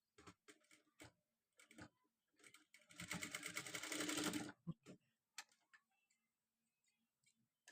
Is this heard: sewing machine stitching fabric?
yes